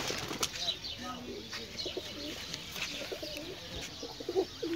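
A female desi pigeon coos softly up close, and a brief burst of wing flapping and rustling comes in near the start.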